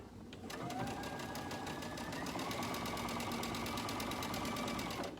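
A sewing machine running a straight stitch to close a neckline opening: a rapid, even mechanical chatter of needle strokes after a short start, steady and close for several seconds, alone without speech.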